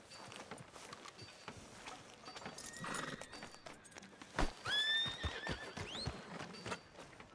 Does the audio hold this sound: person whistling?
no